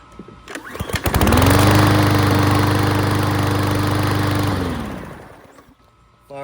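A PowerSmart 22-inch self-propelled lawn mower is pull-started: a short rattling recoil pull, then the engine catches and roars loud and close for a few seconds before dying away.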